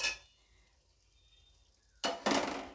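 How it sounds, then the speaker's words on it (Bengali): Potatoes being stirred into a Bengali mutton kosha curry in a pot: near silence, then a short, loud burst of scraping and clattering toward the end. "দিয়ে ভালো করে নাড়াচাড়া করতে থাকবো এবং ঢাকা চাপা দিয়ে মাংসটা রান্না করতে থাকবো।"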